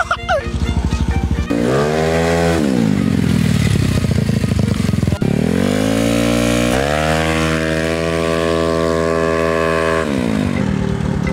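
A loud, close modified Skydrive scooter engine revs hard repeatedly, pitch climbing and falling in sharp surges with rattling exhaust, no talking.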